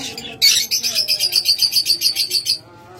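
A pair of caged lovebirds gives a rapid run of about fifteen shrill, evenly pulsed chirps, close and loud, then stops, leaving faint background murmur.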